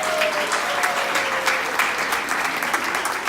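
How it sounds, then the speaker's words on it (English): Steady audience applause at a Palestinian cultural event, filling the whole moment with dense, even clapping at a moderate distance, a faint whistle-like tone gliding through near the start. "give everybody yourselves a round of applause for this great effort"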